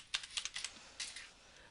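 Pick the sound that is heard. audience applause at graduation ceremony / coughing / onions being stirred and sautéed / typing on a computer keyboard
typing on a computer keyboard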